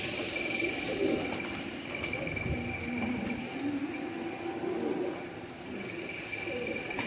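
Rampuri breed pigeons cooing in a loft, soft low throaty coos repeating over a constant background hum and rustle, fairly close but not loud.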